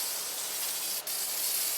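A steady, close hiss of water spraying from a hose into the engine bay of a Jeep TJ, continuous and broadband with only a brief dip near the middle.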